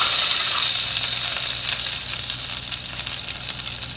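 Urad dal, cumin and dried red chillies sputter and crackle in hot oil, a loud, close, continuous sizzle with scattered pops that eases slightly toward the end, without any talking.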